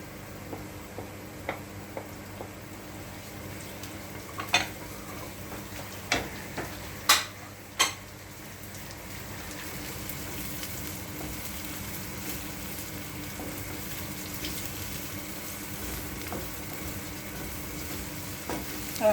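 Chili and sweet peppers sizzle steadily in a pan for vegetable fried rice, a low frying hiss broken by a few sharp clicks and taps of stirring.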